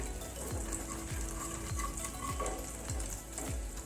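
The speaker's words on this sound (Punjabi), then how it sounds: "ਦੋ ਮਿੰਟ ਜੀਰੇ ਨੂੰ ਆਪਾਂ ਭੁੰਨ ਲਵਾਂਗੇ" Cumin seeds roast in hot oil in a pan with a steady, faint sizzle. A spoon scrapes through them about every half second in an even rhythm.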